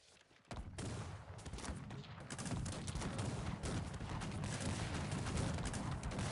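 Rapid gunfire and musket volleys crackle continuously through a Cossacks 3 battle as blue attackers advance and houses burn, dense overlapping shots building loud from the start with no pauses and no speech.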